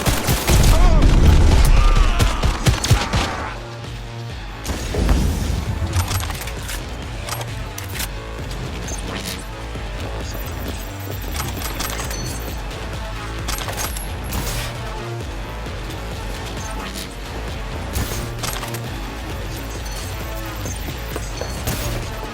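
Loud gunfire from an autonomous shooting function in Cyberpunk 2077, opening with a heavy boom, then a dense, sustained rattle of shots and mechanical clatter that keeps going over low music.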